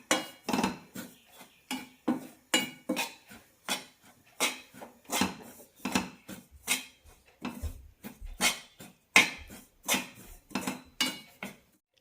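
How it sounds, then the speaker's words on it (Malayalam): Homemade puttu flour is roasted in a pan over a medium flame while a utensil scrapes and taps against the pan in a steady rhythm of sharp, close strokes. No one speaks over the stirring. "പൊടിയൊന്ന് ചൂടാവുന്നത് വരെ മീഡിയം ഫ്ലെയിമിലിട്ട് വറുത്തെടുക്കാം."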